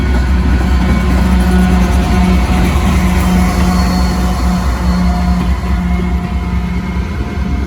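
A Norfolk Southern freight train with distributed power units runs on wet, sanded rails in the rain, a loud continuous low rumble and droning hum of wheels and locomotives, close and unbroken.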